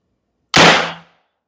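An AFC Bandit air rifle fired once at close range, a single sharp loud crack that decays quickly, alone against near silence.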